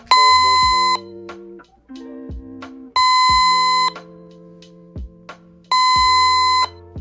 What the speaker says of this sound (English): the monitor will beep intermittently